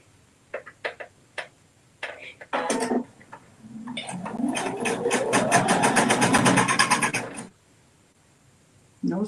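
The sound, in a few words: sewing machine sewing placemat seams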